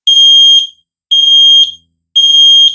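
A ZEN smoke alarm sounds after its center surface is pressed for a test, giving three loud, piercing high-pitched beeps of equal length separated by short silent gaps.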